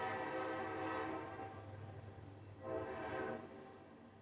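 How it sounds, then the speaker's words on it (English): A train rumbles past far off near a fishing bank, a faint steady roll with soft distant horn-like swells rising and fading. "Hear that train going."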